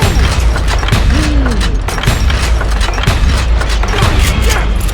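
Revolver gunshots in the Western shooter Call of Juarez Gunslinger sound as repeated sharp booms with irregular spacing over a dense bed of battle noise, and a voice is briefly heard in between.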